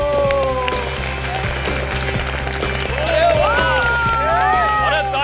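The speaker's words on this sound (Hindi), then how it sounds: "अरे तालियां बजती रहनी चाहिए।" Clapping in a celebrity cooking competition's studio kitchen, steady applause running under background music with tonal melodic lines, loud and continuous throughout.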